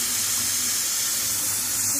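Water pours steadily from a faucet fed through a home water filter system, a close, loud, continuous hissing rush with no break and no talking.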